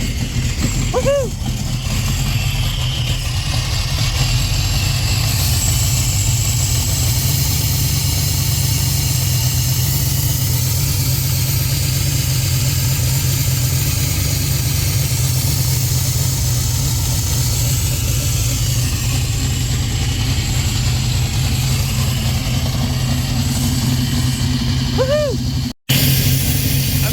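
A car engine fitted with FiTech fuel injection runs steadily at a low idle rumble throughout, with a brief cutout near the end.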